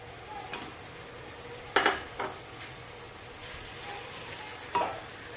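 Chopped tomatoes sautéing in a pan for biryani, a soft steady sizzle punctuated by a few sharp metallic clinks of a spoon stirring against the pot, close but fairly quiet, no talking.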